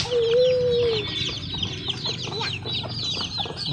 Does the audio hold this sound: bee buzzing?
no